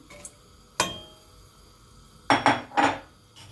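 A few hard knocks and clattering thumps of apple pieces dropped into a metal cooking pot, sharp and close, separated by short quiet gaps.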